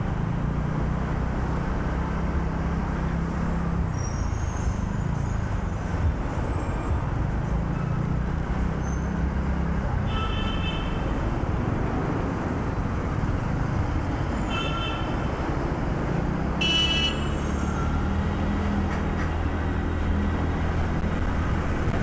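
Steady, loud roar of heavy road traffic with large vehicles rumbling past during a motorbike ride from Goregaon to Bhiwandi, continuous throughout with occasional brief higher-pitched whines and rattles, no talking.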